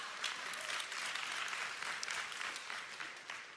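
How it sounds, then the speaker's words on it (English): Audience applause at a school pep rally, a steady dense wash of many hands clapping throughout with no talk over it. "I know you can clap for that,"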